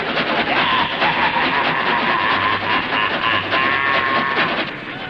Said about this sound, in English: The ghost train!